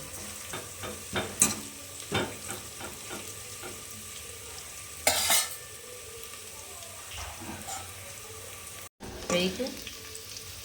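Masala being stirred with onions frying in a pan, a soft steady sizzle broken by scraping and clattering stirs, with a few louder spoon knocks, close and fairly quiet.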